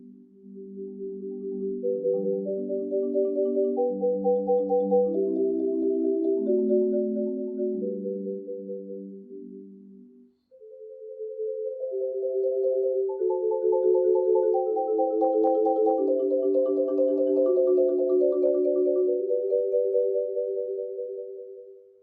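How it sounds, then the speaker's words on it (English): Warm, mellow marimba played with soft yarn mallets, rolled notes blending into a full sustained wash, two long phrases separated by a brief pause. "If I want the marimba to sound softer and more mellow, I would use a softer mallet."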